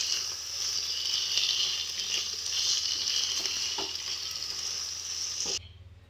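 Bottle gourd and lentil dumpling curry sizzles steadily in a pan while being stirred, a constant bright hiss with soft scraping, cutting off abruptly near the end.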